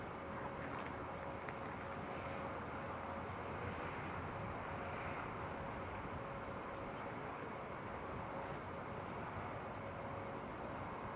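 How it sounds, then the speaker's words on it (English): Loganair Embraer 145 from Aberdeen passing overhead near Newcastle International Airport, a steady distant jet roar under a faint constant hum, with no talk. "So Loganair from Aberdeen just going overhead as well."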